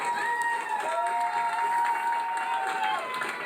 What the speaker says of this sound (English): 25 military medical support team members from the Department of Defense were greeted with cheers and applause Thursday at University Hospital in Newark.